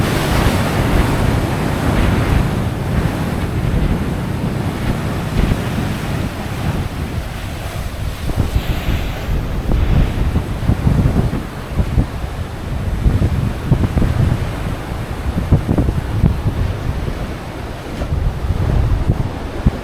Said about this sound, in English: Walking along it, you can feel the fresh sea breeze and take in the calm beauty of the ocean.